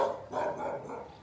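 Dogs barking in a quick run of overlapping barks, somewhat distant, with no voices over them.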